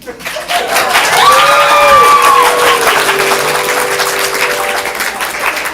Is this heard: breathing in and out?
no